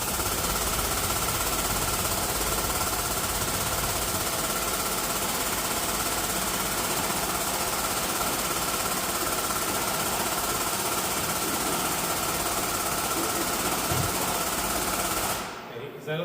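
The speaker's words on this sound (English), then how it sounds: "Start jacking it up." A loud, continuous mechanical clatter runs while a jack lifts a tractor, a dense rapid rattling that stays steady for most of the stretch and then cuts off near the end.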